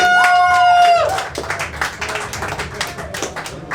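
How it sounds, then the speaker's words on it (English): Clapping from a small audience at a stand-up comedy gig in a brewery bar, scattered near claps that follow a brief high whistle-like tone, moderately loud with some murmur underneath. "Clap for all your comedians."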